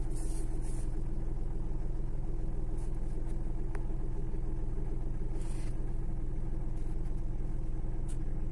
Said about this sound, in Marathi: आपण सेल्फ मारताना जो व्हायब्रेशन येतो ना, त्याच्यावरतीच कळतं. आता बघा गाडी किती व्हायब्रेशन देते.